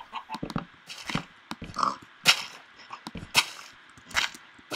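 Minecraft pig oinking in short scattered grunts among clicks and snaps of game play, moderately loud with gaps of quiet between sounds.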